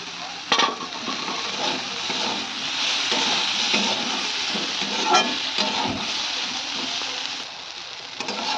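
Fried fish roe added to a hot pan and stirred, a loud steady sizzle with scraping utensil strokes and a few clinks, close up and without speech.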